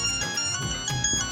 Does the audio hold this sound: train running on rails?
no